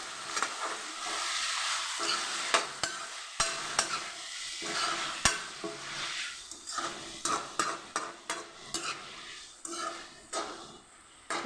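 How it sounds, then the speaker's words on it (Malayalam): Spinach thoran with salt and turmeric is stirred in a hot pan, a crackling sizzle broken by rapid scraping spatula strokes and light clinks against the metal, growing choppier toward the end, with no talking. "നമുക്ക് ഇളക്കാം"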